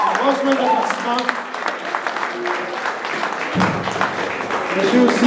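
An audience at a school combined-arts show breaks into applause, a broad clapping texture that stays steady throughout while a speaker's voice carries on over it.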